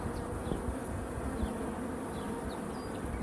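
A honey bee swarm fills the air with a dense, continuous buzzing hum. Individual bees whine past close by now and then.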